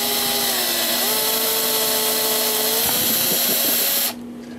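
A power drill spins a 3.47 mm reamer through a bushing hole in the brass plate of a Hermle 1161 853 clock movement, giving a loud, steady whine that runs about four seconds before stopping abruptly.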